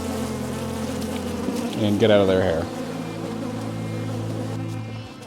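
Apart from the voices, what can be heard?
honey bees buzzing at an open hive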